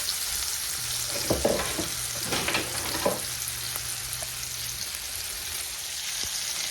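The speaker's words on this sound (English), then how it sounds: "I'm letting each side sear, you know, until each one gets brown" Chuck roast sears in a hot pan, a steady broadband sizzle running throughout with a few louder crackling pops and stirring bursts near the start, close and fairly loud, no talking.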